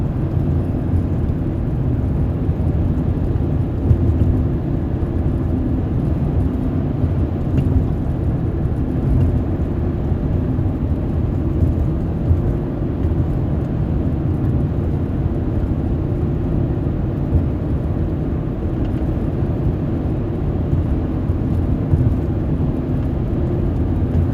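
A car drives around on snow-covered roads in Frisco, near Dallas/Fort Worth, giving a steady, loud, low engine and road rumble that runs unbroken throughout with no talking.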